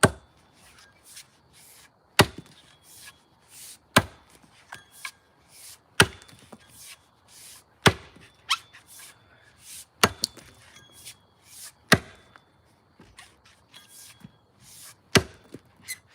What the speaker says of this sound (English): This is a chopping axe.